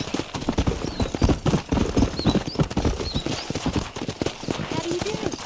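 Horse hooves gallop in a rapid, steady clip-clop rhythm during a cattle-herding ride in Red Dead Redemption, with a voice speaking over the hoofbeats.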